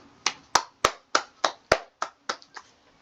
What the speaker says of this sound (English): let's give a clap for India